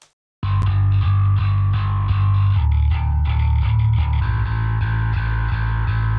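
Bass guitar through an amp-sim 'Fat Clean' preset, with a warm, full clean tone, plays steady held notes that shift in pitch, close and loud, no voices.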